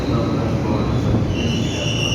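Metro train at an MRT station in Jakarta, a steady loud rumble of rail cars with faint wheel squeal running throughout.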